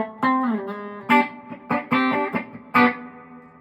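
Electric guitar played through a Solid Gold FX Surf Rider III spring reverb pedal with its tone set very dark, a few picked notes and short chords ringing out alone with a smooth, sustained reverb tail between attacks.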